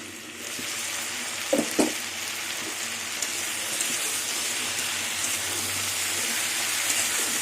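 Taro stolons (kochu loti) fry with prawns in a covered pan, giving a steady, soft sizzling hiss throughout. Two brief knocks sound early on, with no talking.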